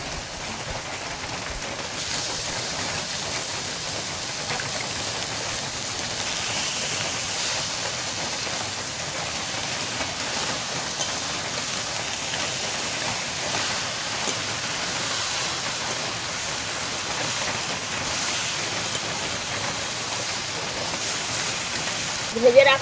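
Dried cabbage, seasoned with turmeric and chili powder, sizzles in a frying pan as a continuous, even hiss like light rain. It holds at a moderate level with a brief louder rattle at the very end.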